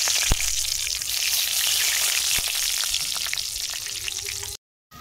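Whole garam masala (crushed cardamom, cloves, cinnamon and bay leaf) fries in hot mustard oil with a loud, close, continuous sizzle and crackle. A few sharp pops stand out before the sound cuts off abruptly near the end.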